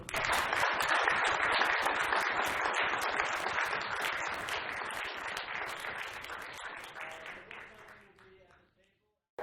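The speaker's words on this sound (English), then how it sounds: "Let's have a round of applause." Audience applause after a book talk about Franklin Delano Roosevelt, a sustained burst of many hands clapping close and loud, gradually thinning and fading out near the end.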